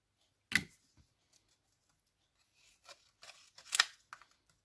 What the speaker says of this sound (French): je vais prendre les petits ciseaux et je vais venir découper mes petites fleurs